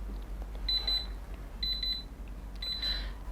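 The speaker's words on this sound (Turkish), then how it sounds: "Bir dakika içerisinde alarm çalacak. Bakalım sesi nasılmış." An electronic alarm clock on an all-in-one wireless charger, clock and night light beeps in three short bursts of rapid high-pitched tones, separated by brief pauses, fairly quiet over a low steady hum.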